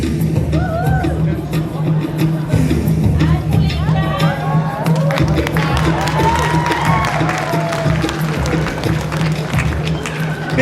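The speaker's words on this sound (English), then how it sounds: "Big round of applause for the beautiful Frida." A pageant audience at a Samoan fa'afafine show in Auckland applauds and cheers loudly, with whoops and shouts over a thick crowd roar, steady throughout, with music or amplified voices mixed in.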